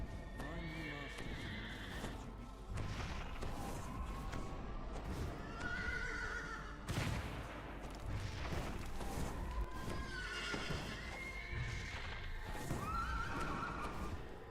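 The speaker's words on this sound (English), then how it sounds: "A black unicorn bursts into the room" A black unicorn in Dungeons and Dragons Online neighs and whinnies repeatedly over galloping hoof clip-clops, with game whooshes and booms mixed in at a steady loud level.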